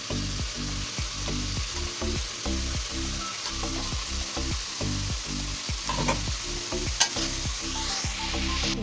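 Bottle gourd leaves fry in a pan while being stirred, a continuous close sizzle broken by a regular rhythm of repeated scraping strokes from the spoon against the pan.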